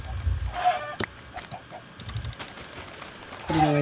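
Chickens squawk and cluck in a video game as a player kills them, short game clucks at the start and end with sharp hit clicks and faint keyboard tapping between.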